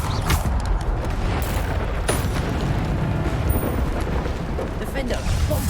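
Bombarda blast spells in the video game Hogwarts Legacy, a dense barrage of booming bursts in a loud, continuous battle din, with a voice heard over the fighting.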